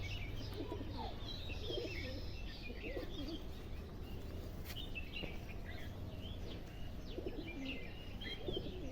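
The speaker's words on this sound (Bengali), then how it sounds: "ভালো কবুতর" Pigeons in a loft give soft, low, repeated coos alongside scattered higher bird chirps, heard steadily throughout with no talking over them.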